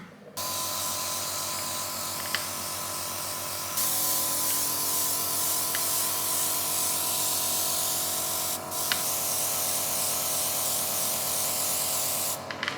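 An airbrush sprays colour onto a wedding cake in a continuous close hiss that gets louder partway through, broken by brief clicks of the trigger, with no talking.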